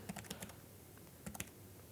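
Typing on a computer keyboard, two quick clusters of light, close key clicks separated by a short pause, alone and without speech.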